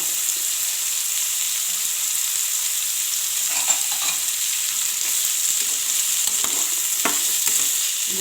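Carrots and beans stir-fry in oil for restaurant-style Schezwan fried rice, a steady loud sizzle with occasional scraping of a spatula in the pan and a few sharp crackles.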